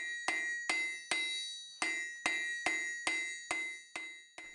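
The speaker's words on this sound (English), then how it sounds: "Something I've found useful is to use the corner of the anvil to forge a little shoulder into the nail." Hammer blows on hot iron against an anvil while forging a nail with a shoulder formed on the anvil's corner, nine sharp ringing strikes at an uneven steady pace, close and clear with no talking.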